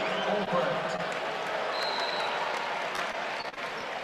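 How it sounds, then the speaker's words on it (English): Basketball arena crowd, Michigan hosting Purdue, groaning and murmuring in displeasure at a foul call, a steady broad roar with a commentator talking over it. "Crowd not too happy about that call."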